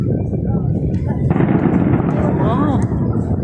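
Fireworks bursting over an Eid al-Fitr celebration, a dense rolling crackle and rumble of continuous explosions that swells loud after a moment, with crowd noise and voices mixed underneath.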